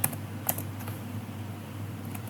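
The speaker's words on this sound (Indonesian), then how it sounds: "kita bisa ketik di sini docker.com" Typing on a computer keyboard, a few sparse keystrokes with a sharper click near the start and another mid-clip, over a steady low fan hum.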